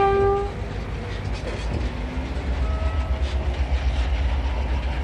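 An iron ore freight train on the Mount Newman Mining Railway rumbles past with a brief horn blast at the start, followed by steady rolling wagon noise and rhythmic clatter building toward the end.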